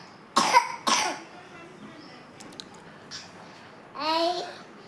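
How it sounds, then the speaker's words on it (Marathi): A young boy with a cold and cough gives two close, sharp coughs in a quiet room, then babbles briefly in a small voice a few seconds later. "खोकला आहे त्याला आता."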